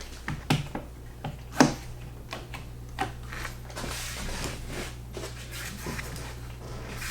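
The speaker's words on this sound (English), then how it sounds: "Just throw some clamps on there" Clamps being fitted onto wood while building a washer and dryer pedestal, a run of close, sharp clicks and snaps at an irregular pace, louder early and then fading to softer handling noise.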